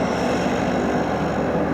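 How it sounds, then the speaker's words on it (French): A small red twin-engine propeller plane taking off from an airstrip on Greenland's east coast, a steady low engine drone with a continuous hum, fairly loud and close, and no voices. "Le petit bimoteur rouge, dont je viens à peine de descendre, reprend déjà son envol pour s'en retourner en Islande."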